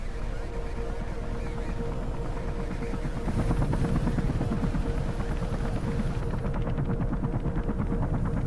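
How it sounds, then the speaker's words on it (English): A helicopter in Mirror's Edge, its rotor throbbing steadily and loudly throughout, swelling slightly partway through with a mechanical whine above the heavy chop. "I will not get to that chopper."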